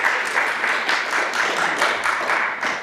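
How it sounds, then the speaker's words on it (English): Audience applause at a talk, a steady wash of clapping with rhythmic swells, moderately loud and close, with no voices over it. "Yes, you can applaud."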